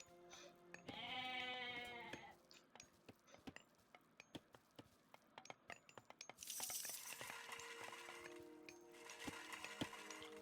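Sheep and goats bleat in Age of Mythology, a harmonic bleat early on followed by clinking, clicking game effects and a busier stretch of overlapping animal calls and ambient sounds.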